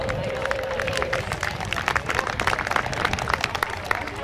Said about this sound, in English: Ladies and gentlemen, a big round of applause for Jim Leavelle.